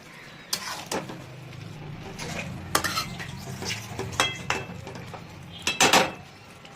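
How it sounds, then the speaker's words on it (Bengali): A spoon stirs shrimp and Malabar spinach curry in a pan, with repeated metallic scrapes and clinks over a quiet simmering sizzle, close and fairly busy. "এই সময়তে একটু এটাকে ভালো করে দিচ্ছি মিক্স"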